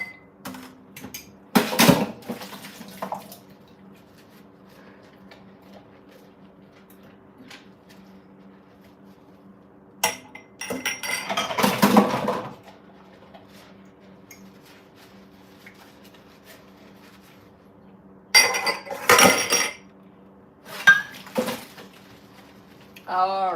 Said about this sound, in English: I'm doing the dishes as I wait for my food to cook